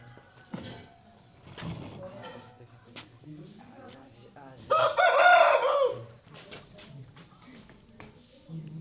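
A single chicken kept for fighting or eggs gives a loud, bright call of about a second in the middle, with speech before and after it and scattered clucks in between.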